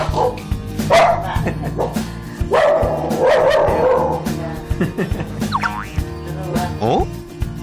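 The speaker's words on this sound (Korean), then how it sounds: "늘 힘없이 무기력하게 있더니 오늘은 짖기도 하고" A female dog that has shown unusual symptoms since her heat barks in a few loud, close bursts, mixed with yips and whimpers, while people talk.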